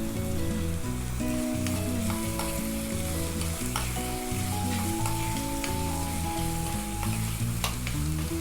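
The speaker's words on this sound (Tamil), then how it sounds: "வெங்காயத்தை நம்ம லைட்டாக வதக்கி விட்டால் போதும்" Onions sautéing in a pan for thavala adai, a steady close sizzle and frying crackle with scraping stirs, loud throughout with no voices.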